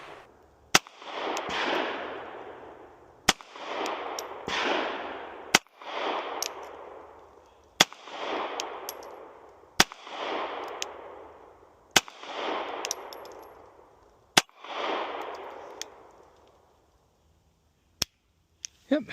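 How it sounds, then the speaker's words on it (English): A KelTec gun fires a string of separate shots outdoors, each a sharp, loud crack about two seconds apart, followed by a longer, broad rushing echo that fades before the next shot; a couple of fainter clicks trail off at the end. "We'll cut to me shooting the 7 shots"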